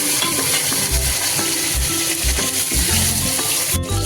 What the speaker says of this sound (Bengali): এরপর আমি আস্তে আস্তে আলু আর পটলগুলো ভেজে নেব।